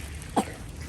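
A single short, faint cough from a child stands out against quiet background noise.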